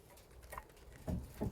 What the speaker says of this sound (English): here we are, mechanicking in the rain